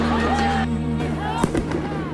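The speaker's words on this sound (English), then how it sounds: "Police fire rubber bullets at students as cops reclaim the building from occupying protesters." At UCLA, police fire rubber bullets at protesters while retaking an occupied building. One sharp, loud pop cracks under a voice that talks throughout.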